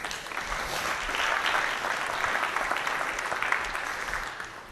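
Conference audience at a software demonstration applauds steadily, a moderate wash of many hands clapping that holds evenly for several seconds.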